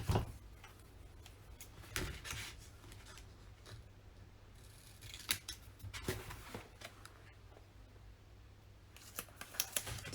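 Wording is cut off a paper sticker sheet in a papercraft layout session, with a few quiet, crisp snips spaced out against a soft background hiss.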